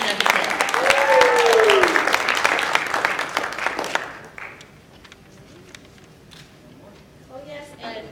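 A graduation-ceremony audience applauds in a burst of dense clapping over the first half, with a voice speaking over it before the claps thin out into quieter scattered taps.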